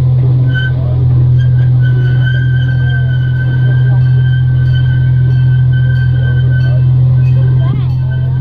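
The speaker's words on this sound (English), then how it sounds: "So the park also has a small train, like a CP Huntington." A small amusement park train, like a CP Huntington, gives a steady, loud low engine drone with a faint mechanical whine above it, continuous throughout under light background voices.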